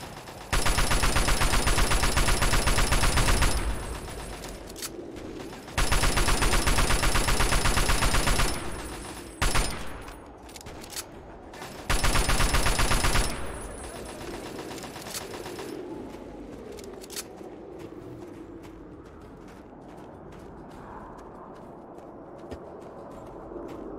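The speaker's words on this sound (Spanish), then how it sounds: "Hay mucho bombazo." Heavy, sustained gunfire and blasts from the Fallout 3 video game in the Operation Anchorage expansion, arriving in three loud dense bursts separated by short gaps, then settling into quieter scattered game sounds and ambience.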